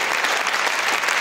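Concert audience applauding at Panther Creek, a dense, steady wash of many hands clapping that fills the whole stretch at close range, with no talk over it.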